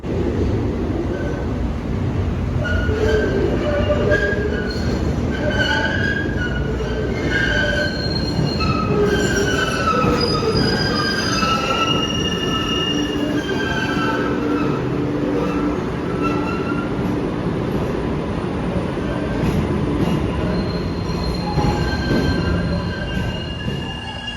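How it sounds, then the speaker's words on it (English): Metal wheels of an MBTA Green Line streetcar in Boston squeal in high, wavering tones over a loud, steady rumble as the train grinds slowly through a tight tunnel curve, continuous throughout. "Look at some of the insanely tight curves that these trains have to make in the tunnel here."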